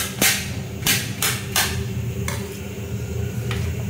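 Knife chopping through snake gourd, a few crisp, close cutting knocks in an irregular rhythm, over a steady low background hum.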